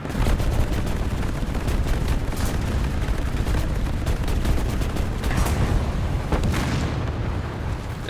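Continuous heavy gunfire and explosive booms from a shooting video game, dense and loud throughout with no pauses.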